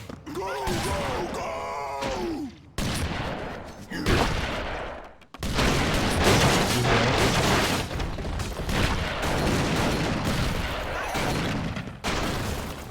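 Loud bursts of gunfire and explosions in the video game Broforce crackle and boom over a busy, noisy mix, with a voice briefly exclaiming early on.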